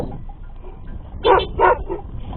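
Two loud dog barks in quick succession stand out over a low, steady outdoor rumble near grazing cattle.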